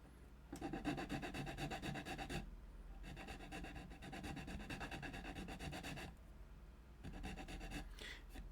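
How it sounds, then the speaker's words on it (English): A chisel scraping along a part in steady rasping strokes, three long bursts of rubbing separated by brief pauses, close and fairly quiet with no talking. "I think I might just use the chisel from here on out."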